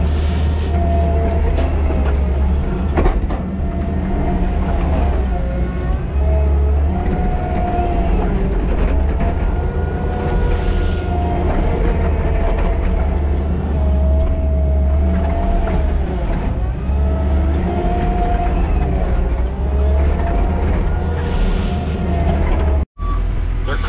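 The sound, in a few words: trucks running at a construction site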